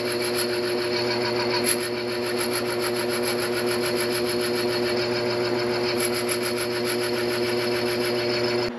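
A metal lathe takes a light skim cut on a bushing in a workshop, a steady whirring hum with a faint scraping texture running evenly throughout, moderately quiet and without voices.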